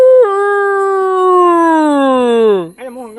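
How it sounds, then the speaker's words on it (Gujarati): A local stray dog of native breed howls in one long, loud, sustained tone that slowly falls in pitch before breaking off, with a brief yelp after; no talk. "કૂતરું હતું દેશી કૂતરું"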